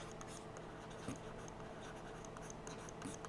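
Pen or pencil scratching out numbers for a square-root math problem, a steady close writing scrape with short stroke accents running alone throughout.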